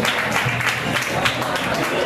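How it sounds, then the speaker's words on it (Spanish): Audience applause at a live music show, a dense steady wash of clapping lasting about two seconds at moderate loudness, with a little crowd noise mixed in. "Un aplauso para él que ha comprado."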